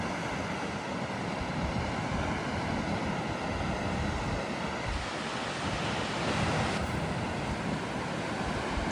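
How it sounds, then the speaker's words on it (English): An Icelandic waterfall roars in a broad, continuous rush of falling water, loud and unbroken throughout, with some wind buffeting the microphone. "There we are, waterfall number 1"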